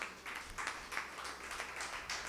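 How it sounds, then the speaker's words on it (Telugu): Church congregation at Holy Mass clapping together in a steady, quick rhythm, fairly faint and distant, with no talking. "గట్టిగా దేవుని చప్పట్లు కొడతాం."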